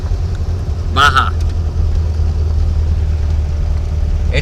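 A 1969 four-wheel-drive Baja micro camper drives along a trail, its engine giving a steady low rumble throughout, with a brief voice heard over it.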